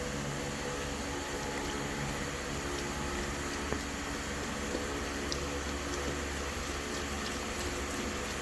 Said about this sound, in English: we're gonna add in some beef broth